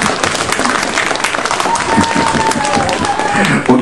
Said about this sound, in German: Applaus und Jubelgeschrei